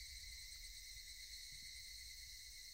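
Steady, shrill drone of cicadas fills the scene in the French game Le sanglot des cigales, a continuous buzzing hum at constant loudness with no voices or breaks.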